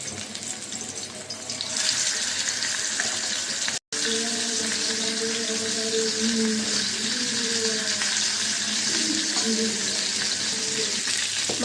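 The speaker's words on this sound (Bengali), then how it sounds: "হলুদ মরিচ দিয়ে মাছটা মেখে নিয়েছি এখন বাজা বসাবো" Turmeric- and chili-coated jhatka fish sizzles steadily in a hot pan, a loud broadband hiss that holds throughout with a brief break, overlaid by faint clinks and low murmurs.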